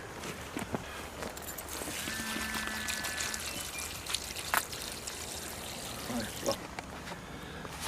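Water poured steadily into a cooking pot while making pilaf, a continuous splashing gush lasting several seconds with a few small clinks and knocks near the end.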